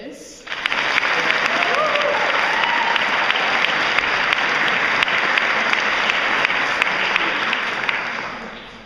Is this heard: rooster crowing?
no